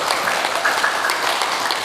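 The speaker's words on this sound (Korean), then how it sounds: "박수" A congregation at a Sunday Buddhist temple service breaks into brief, dense applause, a short burst of many hands clapping together in a reverberant hall.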